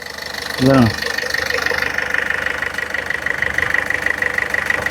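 A used diesel Ford car engine idles steadily with a constant mechanical tone, nearby, after a brief low voice at the start.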